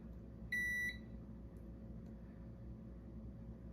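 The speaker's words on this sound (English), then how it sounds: "The meter will buzz or beep if the resistance between the 2 points is less than 50 ohm." A single short electronic beep from a multimeter continuity test sounds once, steady and clear, over a quiet low hum, then only the faint background remains.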